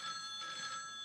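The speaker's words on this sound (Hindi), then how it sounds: "अभी हमारी पार्टी चल ही रही थी कि तभी मेरे दोस्त का फोन आता है।" A telephone rings with a steady electronic trill, a brief bright repeating tone heard clearly on its own at moderate loudness.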